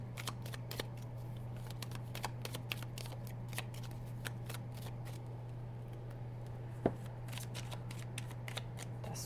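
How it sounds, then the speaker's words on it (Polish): Tarot cards are shuffled close by in quiet, irregular riffles and flicks, with one sharper snap partway through over a low steady hum. "Tasuję dla Ciebie kartę."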